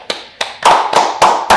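Six sharp hand claps sound close and loud at a steady, moderate pace, each a crisp, separate slap with nothing else in between.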